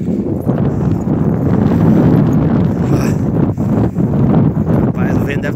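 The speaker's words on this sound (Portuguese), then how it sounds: "o vento deve estar com uns 80 km por hora" A strong, cold wind buffets the microphone while cycling on a dirt road, a loud continuous roar with gusty surges throughout.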